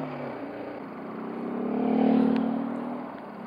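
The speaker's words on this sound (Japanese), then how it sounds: "このシングルエンジン意外と重々しいというか排気量を超えたような、そういった印象のあるシングル回り方ですね" A BMW G 310 GS single-cylinder motorcycle engine running on a test-ride course, a steady heavy drone that swells in revs toward the middle and then eases off slightly, heard alone.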